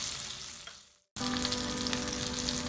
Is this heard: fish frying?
yes